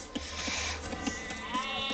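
Sheep bleat in a video game strategy match, several short calls scattered through a steady background of game sounds at moderate level.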